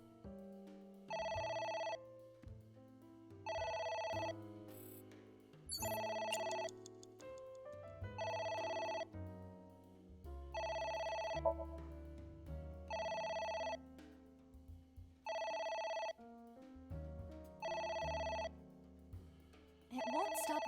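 In the game AI: The Somnium Files, a telephone rings again and again in regular bursts of about a second over low background music, fairly faint and without talk.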